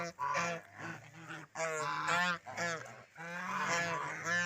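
Farm geese in a village yard honk repeatedly and loudly at close range as they are fed weeds, several nasal calls overlapping in bursts with short pauses between.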